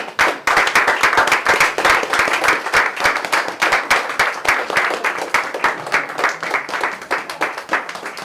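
A church congregation claps loudly and continuously as women are called forward for consecration, a thick, fast wash of many hands that stays close and sustained throughout.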